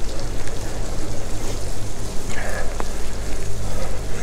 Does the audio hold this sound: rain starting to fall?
yes